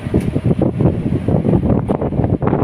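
Strong wind gusts buffet the microphone outdoors near a row of shops, a rough, fluctuating rumble that swells and dips over a few seconds with no voices.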